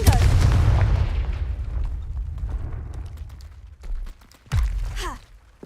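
A Confringo blasting spell goes off in Hogwarts Legacy with a heavy booming explosion that rumbles and decays over a few seconds, followed by smaller thuds and a brief magical whoosh.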